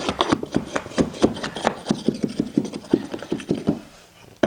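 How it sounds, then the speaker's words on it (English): A carpet stair tool rakes carpet down under the tack strip along a baseboard in quick, even scraping strokes, about four per second, close and steady with no talk. "taking my stair tool, raking it in underneath the tack strip, under the baseboard"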